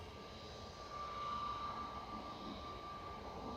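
An airliner taxis out at Manchester Airport with a steady, moderately distant engine drone and a faint whine running through it. No voices are heard over the continuous rumble.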